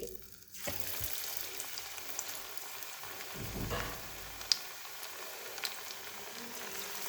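Steady crackling sizzle of onion fritter batter frying in hot oil, continuous and close, with a brief low thump partway through and no voices.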